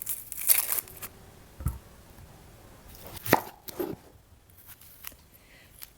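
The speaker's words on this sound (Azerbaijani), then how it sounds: "Beş ədəd orta ölçülü soğan soyuram" Five medium-sized onions are peeled by hand, giving a few sharp crackling tears and papery crinkles that come in separated bursts amid quiet pauses, close up and with no talking.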